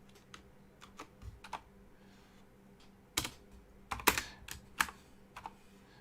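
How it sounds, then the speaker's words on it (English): Someone types on a computer keyboard nearby, irregular clicking keystrokes that are sparse at first and then come in quicker, louder clusters over a faint steady hum. "I'll type it in chat here"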